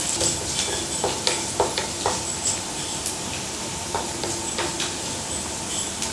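Finely chopped shallots and dried red chillies sautéing in a pan for Kerala beetroot pachadi, a steady close sizzle broken by repeated scraping stirs and light clicks of a spoon against the pan.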